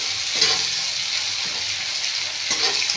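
Onion sizzles steadily in oil in a pan for a Bengali fish curry, a constant close hiss with a few brief stirring scrapes, no voices.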